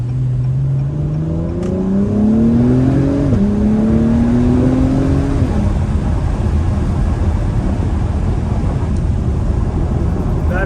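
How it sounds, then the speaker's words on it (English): A 2021 Acura Type S exhaust climbs through the gears under hard acceleration, heard close and loud from inside the car at night, with rising tones that drop at each shift, then steady road roar. "hope you guys are getting exhaust sound right now, not wind."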